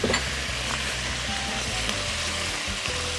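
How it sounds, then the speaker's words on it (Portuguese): Oxtail sears in a hot pan with a steady, dense sizzle and crackle of frying meat, close and continuous throughout, with no talking. "A gente vai deixar ela um pouquinho na panela para ela dar uma tostadinha."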